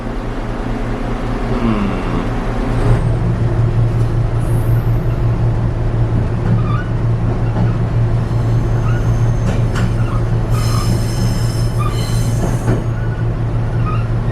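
A diesel railcar in Taiwan hums along the tracks with a steady low engine drone, rattling wheels and occasional high squeals, heard from inside.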